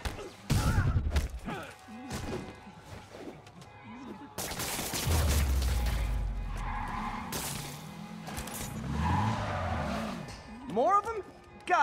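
Gunfire from thugs in Marvel's Spider-Man Remastered erupts in loud, dense bursts through the middle stretch, mixed with game music and effects, while voices shout and talk over it.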